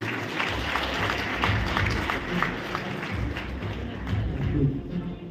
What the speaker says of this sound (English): Let's clap for him as he goes through